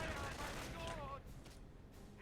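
Indirect shell fire in a competitive strategy video game match, a dense continuous barrage of explosions and gunfire beneath overlapping commentary voices.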